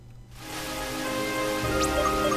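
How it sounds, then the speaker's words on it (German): Rain in Pokémon Black hisses in as a steady, dense patter that swells quickly and then holds constant, with no speech and no other sounds. "Ja, ich weiß, dass es regnet."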